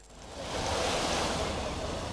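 Sea waves wash onto a Greek beach in a steady, continuous roar of surf that swells slightly and holds. It is close and fairly loud, with no voices.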